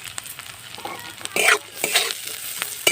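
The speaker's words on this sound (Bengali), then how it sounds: "এবার আমি পেঁয়াজ কুচানা দিয়ে দেব" Chopped onions frying in hot oil in a pan for bread pakora, stirred with a spatula: a steady sizzle broken by louder bursts of scraping and crackle, close by with no talk.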